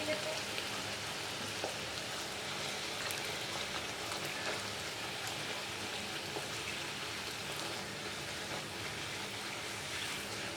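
Potato puri frying in hot oil on a stove over a medium flame, a steady soft sizzling hiss with small crackles, continuous and fairly faint, close by.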